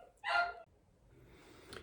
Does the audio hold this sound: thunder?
no